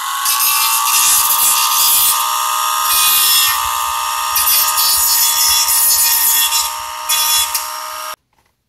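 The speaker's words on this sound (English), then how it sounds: "See if we can take off some of the burrs," Sanding plastic burrs off the nose area of a VR smartphone headset produces a loud, steady abrasive whir in bursts, pulsing through several strokes before stopping abruptly near the end, with no talking.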